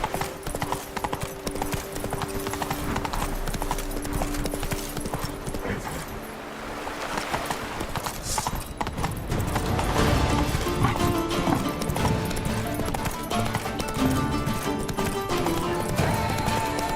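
Hooves of Roach, Geralt's horse in The Witcher video game, clip-clop in a steady trotting rhythm throughout, fairly close and loud over a dense bed of game music and ambience.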